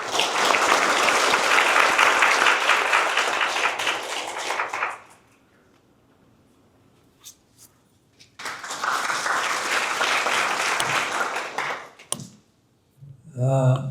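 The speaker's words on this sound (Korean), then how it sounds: "큰 박수로 맞이하시기 바랍니다" A hall audience at the 50th anniversary event of Seoul National University's College of Natural Sciences bursts into loud, sustained applause to welcome a former university president. The clapping stops, a few seconds of near silence follow, then a second strong wave of applause comes before a voice begins.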